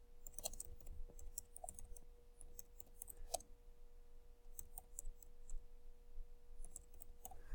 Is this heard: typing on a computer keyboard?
yes